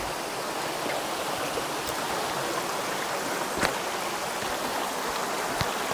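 The waterfall at Valle del Lunarejo roars in a steady, dense wash of falling water, with a few sharper splashes cutting through the constant rush.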